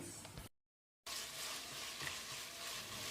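Tomatoes and mint sautéing in a pan give a steady, soft sizzle with faint stirring, broken by a short silent gap before the frying noise resumes and continues evenly.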